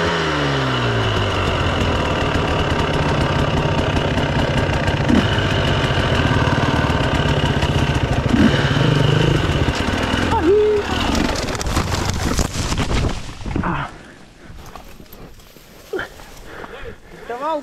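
An enduro motorcycle engine idles with a steady close rumble for most of the stretch, then cuts away to quieter surroundings near the end, while people talk over it.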